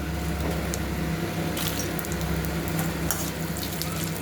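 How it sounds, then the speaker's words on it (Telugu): Coriander seeds and dried red chillies dry-roasting in a pan, giving a steady, close crackling sizzle with soft scraping stirs throughout and no talk. "నేను ధనియాలు ఎండిమిరకాయ అంతా బాగా వేగిస్తూ ఉన్నాను."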